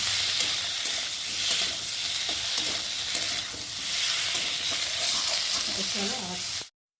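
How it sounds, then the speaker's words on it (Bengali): Masala and a large chopped tomato stir-fry in hot oil, a continuous sizzle with repeated scraping strokes of a spatula, close and fairly loud, and a voice briefly heard near the end before it cuts off. "তো দেখো মশলা ভালোভাবে কষানো হয়ে গেছে"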